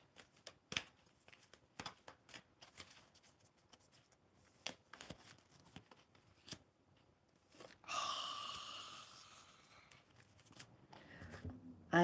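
Someone shuffles a deck of cards up close: a run of sharp riffle snaps and taps, then a longer, denser riffle near the end. The room is otherwise quiet and no one speaks.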